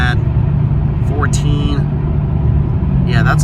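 Mercedes AMG C32/E55 cruising at steady speed, a constant near engine and road drone inside the car with people talking over it.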